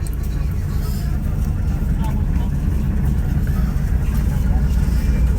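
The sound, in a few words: ferry engine as the ferry departs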